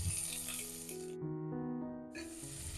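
Capsicum sizzles in a kadai pan for kadai paneer, a close, bright frying hiss that drops out briefly while a few sustained musical tones play, then returns.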